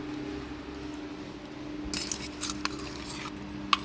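A utensil clinks against a plate while taro stolon (kochur loti) curry is served at home, a few sharp metallic taps over quiet room tone.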